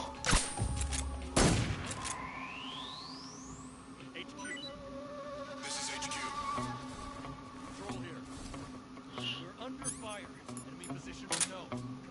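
Gunfire in the video game Metal Gear Solid 3, with a loud burst of shots near the start and a few more sharp reports later over steady game ambience and music, while a player talks.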